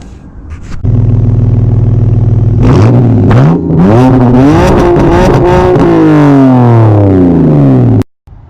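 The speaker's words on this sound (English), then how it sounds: "we have got an aftermarket exhaust. It is stainless steel" A car with an aftermarket stainless steel exhaust, its rear backbox deleted, revs hard and close, climbing through several loud rising sweeps of engine note and holding a sustained roar before cutting off abruptly.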